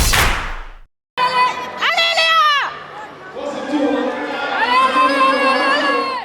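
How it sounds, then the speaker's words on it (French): Children shout and cheer loudly at a Shetland pony cross event in a riding arena, their high excited voices rising in bursts after a brief gap, with crowd chatter underneath. "Ça crie, ça galope et ça saute."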